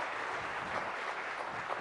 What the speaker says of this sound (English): She deserves a bigger round of applause and welcome.